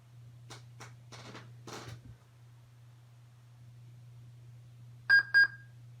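Old PC bought cheaply secondhand starting up, a low steady hum with a few clicks and knocks, then two short high-pitched startup beeps in quick succession near the end.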